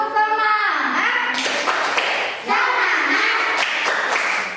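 Children clap their hands in a short rhythmic chant at a kindergarten, bursts of claps mixed with young voices calling out together, loud and close.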